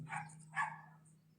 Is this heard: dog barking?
yes